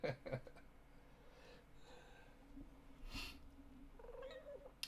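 A cartoon cat in a Windows 3.x computer game gives short meows and purring sounds, with a few quick vocal bursts at the start and another near the end over quiet background noise.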